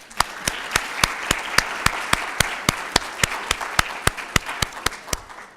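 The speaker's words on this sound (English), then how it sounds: "So give yourselves a round of applause." Steady, slightly uneven hand clapping from a seated audience at a university education awards ceremony, sharp individual claps repeating for several seconds with no one talking.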